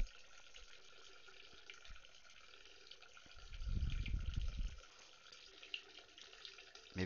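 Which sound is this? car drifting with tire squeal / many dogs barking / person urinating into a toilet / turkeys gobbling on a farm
person urinating into a toilet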